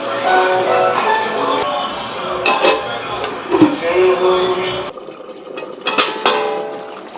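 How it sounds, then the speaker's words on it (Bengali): Water is poured into a cooking pot holding boiled potatoes, a steady splashing fill with brief clatters of the pot, ending in a quieter trickle. "এবার দিয়ে দেবো জল"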